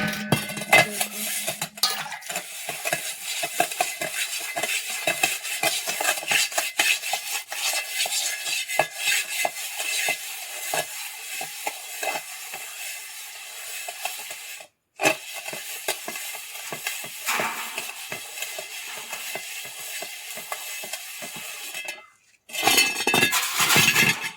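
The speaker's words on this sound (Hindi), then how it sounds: "मिट्टी के बर्तन धुलते हैं" Clay pots and dishes being scrubbed and washed by hand in the morning, a continuous close gritty scraping with scattered clinks of pottery, two brief pauses, and no talking.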